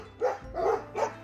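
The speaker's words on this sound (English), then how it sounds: "area with 4 German Shepherds living back here" German Shepherds behind a garden fence bark three times in a row, loud and close, each bark short and gruff with brief gaps between.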